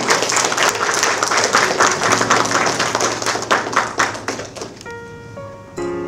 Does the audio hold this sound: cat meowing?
no